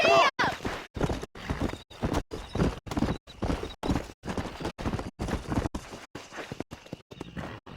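Horse hooves clip-clop in a steady, rhythmic gallop while riding in the video game Red Dead Redemption, close and prominent, with regular gaps between strides and a brief whinny near the start.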